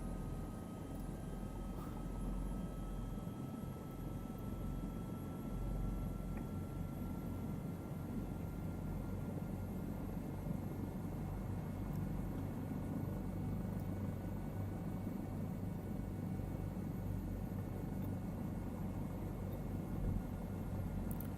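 A Bell 407 helicopter in flight produces a steady, constant low rotor and turbine drone with a faint high whine, heard from inside the aircraft, without talking.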